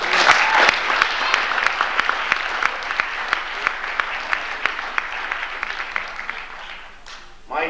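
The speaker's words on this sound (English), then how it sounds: "I think all the young athletes in Northeastern Clinton deserve a good round of applause" A large audience at a school winter sports awards ceremony breaks into sustained applause for young athletes, dense clapping holding steady for several seconds before tapering near the end.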